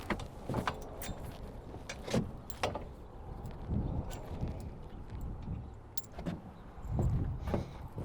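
Metal pins being pulled from a TrailerSaver BD5F trailer beam, a series of scattered metallic clinks, taps and scrapes at close range, irregular and fairly faint over a low background rumble.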